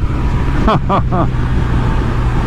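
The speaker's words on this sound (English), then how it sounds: "As you can see, lots of traffic." Heavy urban road traffic flows past a motorcycle being ridden near a freeway exit: a steady, loud, low rumble of passing vehicles, with a brief voice speaking over it early on.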